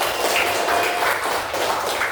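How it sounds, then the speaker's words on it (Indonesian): Elementary school pupils clap for a classmate in a classroom, giving a close, steady wash of applause with no talking over it. "Tepuk tangan untuk Jai."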